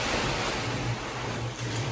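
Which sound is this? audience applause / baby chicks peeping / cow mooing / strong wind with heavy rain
strong wind with heavy rain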